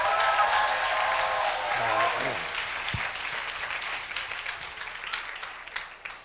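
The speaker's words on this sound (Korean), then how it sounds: "우리 힘차게 하나님께 영광의 박수 돌립시다" A church congregation bursts into loud applause during a Korean sermon; the clapping is dense at first, then thins and fades over several seconds while a voice and a few sustained keyboard-like tones sound underneath.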